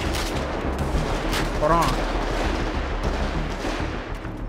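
Rapid bursts of gunfire crackle in a GTA 5 roleplay shootout, dense volleys layered over a steady rumble while someone speaks briefly.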